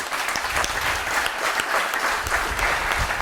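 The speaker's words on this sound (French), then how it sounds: "tonnerre d'applaudissements pour Christelle" Dense, thunderous applause from an audience cheering for Christelle, steady and sustained from start to finish with no voices over it.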